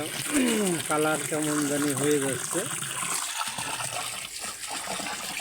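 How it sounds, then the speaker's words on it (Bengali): Water pours and gushes steadily into a container holding ornamental fish, with a voice speaking over the start of the flow. "পানি দিচ্ছি যেন এর উপরে উঠে যায়"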